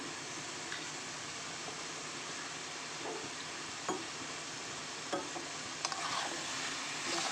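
Egg and potato curry stir-fried in a pan gives a soft, steady sizzle throughout, with a few faint scrapes and taps of the spoon and no talking.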